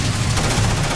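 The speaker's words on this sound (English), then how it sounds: "Now everyone came rushing to me because they heard the gunfire." Rapid automatic gunfire in the Starfield video game rattles loudly and continuously, with dense overlapping shots and a heavy low-end rumble throughout.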